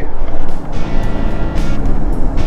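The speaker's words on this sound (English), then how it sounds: "There's a whole lot of traffic on that highway" Steady low roar of highway traffic beside Ratcliff Lake Recreation Area in Davy Crockett National Forest, a continuous rumble with swells as cars go by, fairly loud and without voices.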